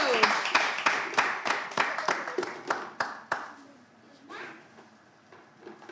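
Scattered hand claps ring out in an uneven burst for about three seconds, then fade as a voice speaks over the dying applause.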